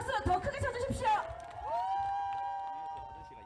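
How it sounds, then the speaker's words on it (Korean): A crowd at an outdoor election campaign rally in Duryu Park, Daegu, claps and cheers loudly for about a second and a half before the noise gives way to a steady, sustained tone. "여러분 박수가 작습니다. 박수 더 크게 쳐주십시오."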